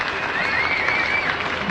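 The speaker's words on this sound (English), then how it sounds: "Generous round of applause." Crowd at a 1985 West Indies versus Sri Lanka cricket match applauding a batsman's fifty, a steady broad wash of clapping heard from a distance with a commentator talking over it.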